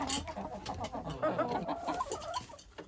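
Several chickens cluck close by in a busy, overlapping chatter, with steady soft calls continuing throughout and no talking.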